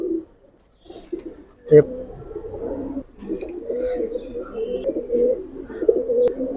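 Silver Giribaz pigeons coo softly and repeatedly at close range in low, throaty rolls, with a brief flutter and a murmuring voice in the background.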